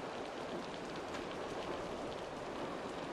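Steady rain in Assassin's Creed Valhalla, a soft, even hiss of drops falling continuously and fairly quietly with no voices.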